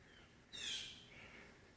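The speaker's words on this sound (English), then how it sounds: "crowing, or whatever they're cawing." A single bird call, likely a crow's caw, rings out once in quiet woods, fairly distant and brief against a soft, still background.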